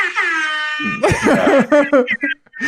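A loud, blaring rap air horn sound effect sustains for about a second, then breaks into a burst of excited voices and laughter talking over each other.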